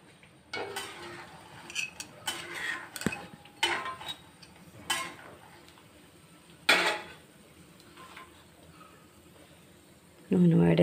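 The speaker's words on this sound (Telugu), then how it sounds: "సరే స్లోగా కదుపుకుందాం. వేగిపోయి తీసేసుకుందాం." A pan of food frying in oil is stirred slowly, with scattered clinks and scrapes of a spoon against the metal and a soft sizzle beneath, then a louder burst of frying near the end.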